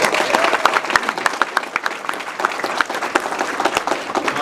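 A crowd at a political event applauds Lieutenant Governor Mike Parson with dense, steady clapping that holds loud for the whole stretch, with scattered sharper claps on top.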